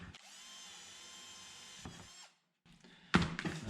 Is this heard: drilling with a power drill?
yes